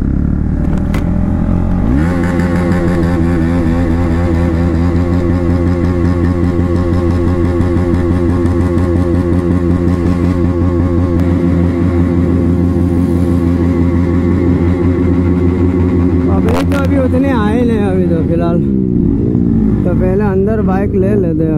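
A motorcycle engine holds a loud, steady high-rpm rev for most of the stretch, then drops and sputters near the end, at a meetup on International Indigenous Day in Taloda, Nandurbar.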